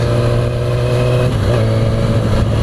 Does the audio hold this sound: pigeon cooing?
no